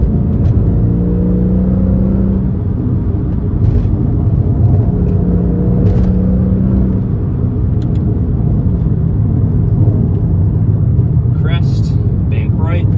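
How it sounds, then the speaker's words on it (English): A Mercedes C55 AMG engine and exhaust hum and rumble from inside while driving, with a person talking over the drone and a few short sharp pops near the end. "when you downshift and you let the RPMs kind of overrun a little bit, you will get some pops"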